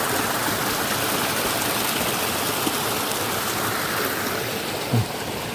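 Clear mountain water flowing at an old sacred royal grave site, a dense steady rushing wash that fills the whole clip at constant loudness with no speech over it.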